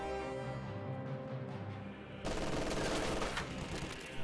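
Machine-gun fire in a strategy video game, a dense burst of rapid shots that swells loud after a quieter stretch of game music and ambience, with no talk.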